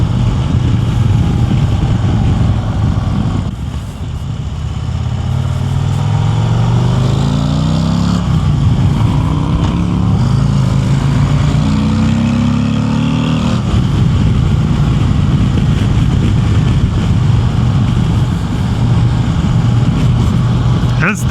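A 2026 Harley-Davidson Street Glide CVO ST engine drones steadily while riding, rising and falling in pitch as it shifts and accelerates, with constant wind rush throughout.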